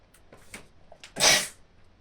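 A single sharp, loud sneeze bursts out after a few faint sounds, standing alone without talk.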